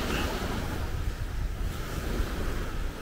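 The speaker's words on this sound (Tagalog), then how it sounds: "So yan yung dagat" Steady rush of surf rolling onto a fine-sand beach in Sual, Pangasinan, mixed with blustery wind buffeting the microphone; no voices.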